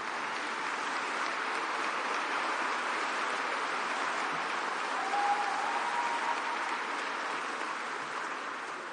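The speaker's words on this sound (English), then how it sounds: "let's give them a round of applause." Luncheon audience applauding table hosts at a banquet, a broad, steady roar of many hands clapping from a large room that continues evenly and begins to fade at the end, with no talking.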